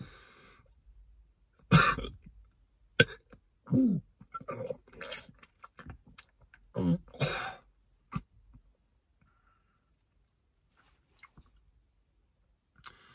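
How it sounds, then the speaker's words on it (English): A series of sharp coughs and throat-clearing bursts, several in quick succession, close and loud, then trailing off into quiet. "It's every time I cough."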